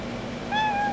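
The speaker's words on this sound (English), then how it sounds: "She's our most skittish cat." A skittish adult cat, six or seven years old, lets out a single clear, fairly close meow that rises and holds for about half a second, with quiet room tone before it.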